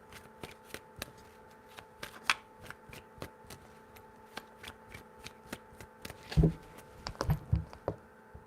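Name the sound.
shuffling tarot cards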